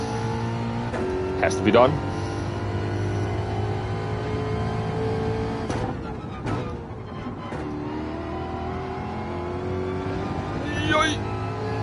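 A GR4 Ford Mustang race car engine in Gran Turismo 7 revs and shifts through its gears, rising and falling under a voice talking over it.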